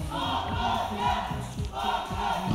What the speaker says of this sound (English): the cry from the crowd